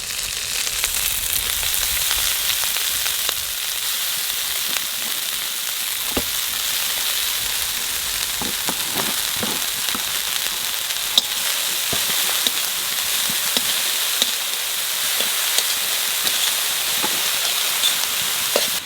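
Greens dropped into a hot pan with green chillies sizzle and fry steadily for the whole stretch, a dense, even crackle with occasional louder pops and stirring clicks, close up and with no talking.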